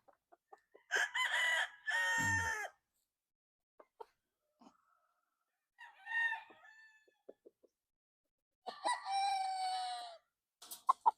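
A sinibalang gamecock rooster crows several times close by, with long drawn-out calls separated by quiet gaps and a few soft clucks and scratches between them.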